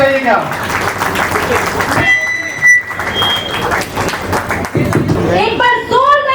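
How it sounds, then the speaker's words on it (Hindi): An audience at a creator meetup in Kichha, Uttarakhand applauds in a steady, dense wash, with a voice speaking over the clapping. "एक बार जोरदार तालियां हो जाए।"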